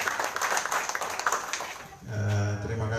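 Audience at a regional government gathering in Jayapura clapping, a dense burst of applause for about a second and a half after a stretch of noisy crowd, followed by a sustained tonal sound.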